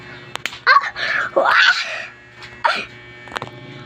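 A person crying and wailing in a classroom, with moaning sobs rising and falling in uneven bursts, loud and close, between quieter pauses.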